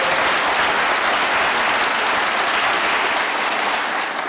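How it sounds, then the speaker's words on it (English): Large audience at a State of the State address in Queens giving an assemblywoman a loud, sustained round of applause, dense continuous clapping filling the hall with no break. "Give her a round of applause."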